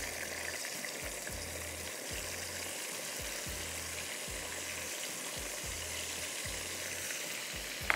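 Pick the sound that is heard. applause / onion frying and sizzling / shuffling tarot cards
onion frying and sizzling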